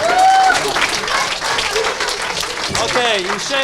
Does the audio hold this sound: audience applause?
yes